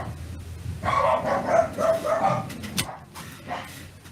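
A dog barks at a delivery person in a quick burst of several sharp woofs and yips, fairly loud and close, then trails off into a brief whimper with no one talking.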